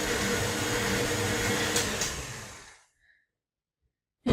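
An electric mixer whirs steadily through sugar cookie dough, then spins down and stops, leaving near silence before a brief bump.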